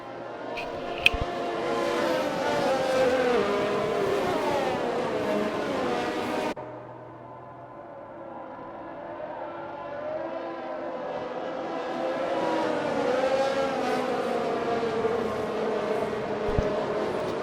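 Race car engines drone and rise in pitch as cars pull away from a safety-car restart in an Xbox racing game at the Belgian Grand Prix, steady whining revs that fade briefly, then build again.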